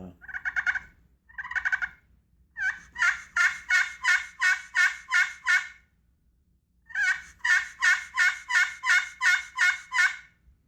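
A friction call yelping like a turkey in rapid rhythmic bursts: a few short hesitant runs, then two long series of even, sharp yelps with a pause between.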